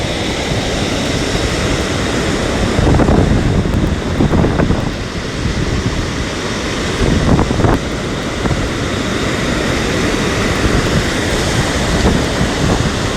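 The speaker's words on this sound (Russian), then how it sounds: "нагоняет шторм, нагоняет волны" Stormy waves and strong wind on the Sochi shore at a beach, a loud continuous roar of surf and wind buffeting with several heavier wave crashes rising and falling, no voices.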